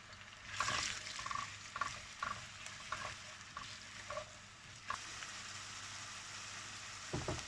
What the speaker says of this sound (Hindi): ऑयल गर्म हो गया। अब इसमें ये ओनियन डालेंगे।